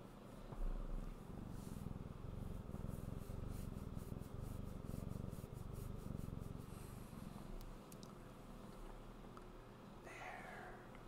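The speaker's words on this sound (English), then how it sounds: "I don't know if you can hear her purring, but Miss Jinx wanted to come say hello." A cat purrs very faintly up close, a soft continuous rumble with light rubbing and brushing sounds mixed in.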